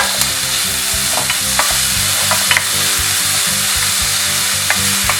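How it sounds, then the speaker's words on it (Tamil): Finely chopped small tomato sautéing with onions in a pan, a steady close sizzle broken by scraping stirs of a spatula, with no voices. "தக்காளியை வந்து நல்லா வதக்கி விட்டுருங்க"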